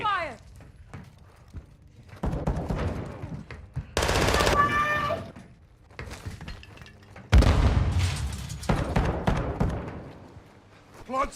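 Gunfire in a shooter video game: rapid automatic bursts and single shots come in loud clusters, with sharp crackling impacts between them. Voices talk over the shooting throughout.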